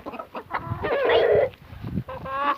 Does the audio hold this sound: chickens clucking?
yes